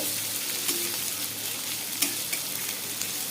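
Chopped onion frying in oil in a pan for a light Bengali fish curry, a steady close sizzle with a few soft clinks of stirring under it, no voices.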